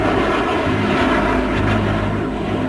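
An A-12 spy plane, a Mach 3 high-altitude reconnaissance jet, roars past as a steady, dense engine noise with a broad rushing texture, loud and sustained throughout with no voices.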